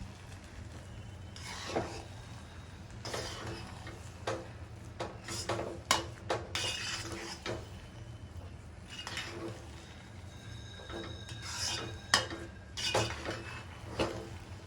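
Mango ginger rava upma being stirred in a pan, with a spoon scraping and clinking against the metal in irregular bursts over a low steady background hum, close and moderately quiet, no talking.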